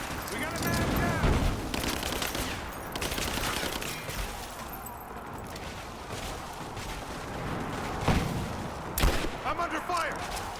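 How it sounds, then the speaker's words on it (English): Heavy suppressing gunfire in the action game Tomb Raider, dense overlapping bursts and rattling shots with explosions, sustained and loud throughout, with shouted voices mixed into the chaos. "I'm under fire!"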